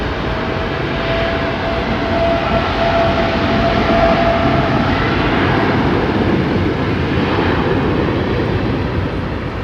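A Boeing 787 Dreamliner at Heathrow Airport produces a steady, broad jet roar at moderate distance, with a thin tonal whine in the first half and no voices.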